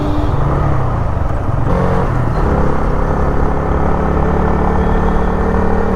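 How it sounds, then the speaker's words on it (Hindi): A vehicle engine labours loudly and continuously, a heavy low rumble with a steady droning tone that holds strong throughout, close by and without any talking. "बहुत इंजन से आवाज़ आ रही है, धम धम धम धम"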